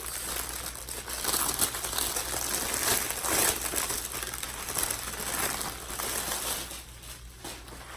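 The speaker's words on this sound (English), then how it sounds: "Now this is in plastic, so let me take it out." A cardigan is pulled out of plastic packaging, giving continuous close crinkling and rustling of thin plastic in bursts for several seconds with no talk.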